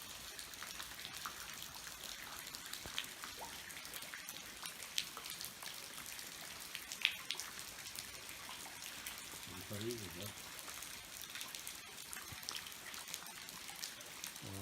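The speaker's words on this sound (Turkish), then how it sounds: "Bugün geldik ama yağmur var." Steady rain falls near a bridge over the Sakarya river, a dense, even hiss of drops with occasional louder patters, and faint voices murmur under it.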